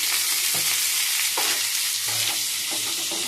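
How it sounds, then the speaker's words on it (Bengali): Sliced potatoes fry lightly in oil with a steady, loud sizzle, broken by a few brief scraping stirs of the pan. No one speaks. "আলুগুলো একটু হালকা ভাজা ভাজা করে নেব।"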